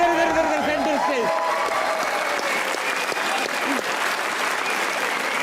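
Studio audience applause on a comedy talk show, dense sustained clapping and crowd noise, loud and close, with a host's voice and some tonal music over the start.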